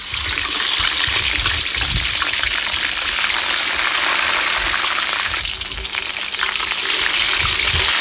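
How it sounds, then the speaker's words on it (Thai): Steady, loud crackling and sizzling of tilapia frying in hot oil in a pan, continuous spattering pops throughout with no talking. "ตั้งกระทะใส่น้ำ มันลงไป น้ำ มันร้อน แล้วก็นำปลาลง ไปทอด"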